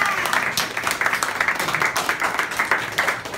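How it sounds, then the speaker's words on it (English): A small group at an informal office hours meetup gives a round of applause for teaching assistants, a steady patter of clapping from nearby hands that holds evenly for a few seconds. "So let's give her a big round of applause."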